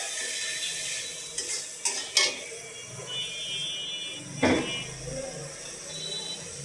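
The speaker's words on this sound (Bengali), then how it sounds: "মশলাটা কষানো হচ্ছে।" Spice paste for a thin country-chicken curry is stir-fried in a pan, giving a steady close sizzle broken by a few sharp clinks and scrapes of the spoon against the pot.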